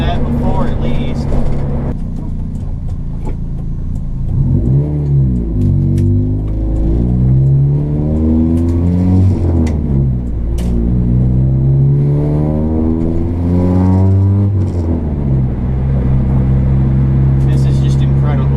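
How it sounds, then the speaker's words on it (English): Car with a 420a engine on Megasquirt injection revs steadily while driving, with repeated rising and falling engine sweeps through gear changes, loud and close, under someone talking throughout. "I cannot believe I'm driving this thing with a Megasquirt in it and it's running. And it's running beautifully."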